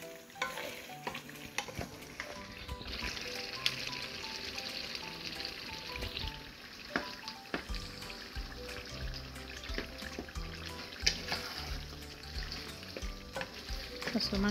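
Mutton with potatoes and carrots sizzles and fries in a pan while being stirred, with a steady hiss and repeated scraping stirs throughout, close and moderately quiet.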